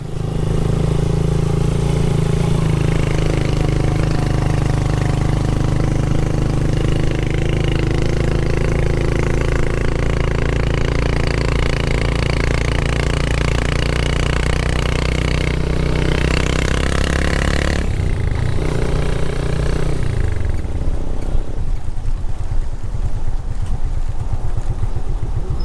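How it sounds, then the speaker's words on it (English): A motorbike engine drones steadily as it crosses a bridge, loud and close for most of the stretch before the tone shifts and drops away near the end; no talk. "There's the motorbike going across the bridge."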